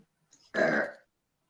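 A single short, loud burp after a meal, close by, preceded by a faint breath and followed by silence.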